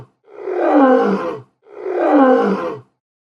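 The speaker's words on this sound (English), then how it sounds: "Lion." Two loud, close lion roars, each lasting about a second and a quarter, separated by a short silence, with no talking.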